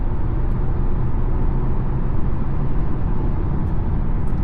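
An Acura ADX with a CVT pulls under full throttle, giving a steady, unbroken engine drone with road and tyre roar inside the cabin and no gear shifts.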